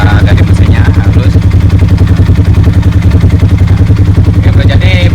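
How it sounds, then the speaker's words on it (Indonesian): Engine of a Yamaha R15 sport bike idling smoothly close by, a loud, even low rumble with a fast steady throb lasting throughout, with faint speech over it. "Nah ini suara dari mesinnya halus."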